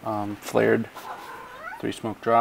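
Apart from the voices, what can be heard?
cat meowing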